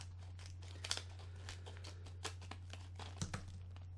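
Scissors snipping into a sealable plastic bag indoors in an office, with a few short crinkly plastic crunches and cuts over a steady low electrical hum.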